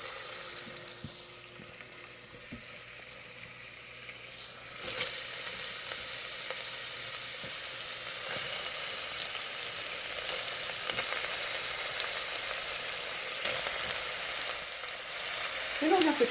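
Onions, garlic and meatballs for albondigas fry in a pan, a steady loud sizzle that swells as the meatballs go in, with occasional stirring scrapes and no talking.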